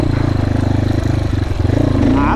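A GPX FSE300R motorcycle engine drones loudly and close up with a steady, throbbing pulse, holding an even pitch and then rising slightly near the end.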